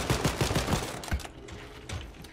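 Rapid automatic gunfire from a shooter in Wolfenstein: Youngblood, bursts of shots crackling in quick succession at close range, then thinning into scattered, fainter reports.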